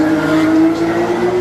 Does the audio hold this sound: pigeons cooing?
no